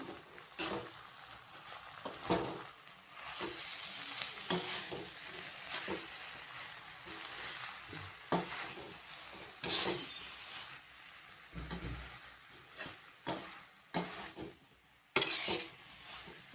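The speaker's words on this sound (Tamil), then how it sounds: "ஒரு 2 நிமிஷம் வதக்கி கேஸை வந்து ஆஃப் பண்ணிடலாம்." Gooseberry pickle with chili powder is stirred and sautéed in a pan on a gas stove, with a faint sizzle under scattered scraping spoon strokes and clinks.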